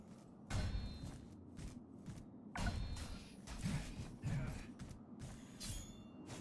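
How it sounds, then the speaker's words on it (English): A car door in the game The Surge 2 is struck and torn loose, giving several loud metallic bangs and creaks spaced a second or so apart over low background rumble. "It's a car door."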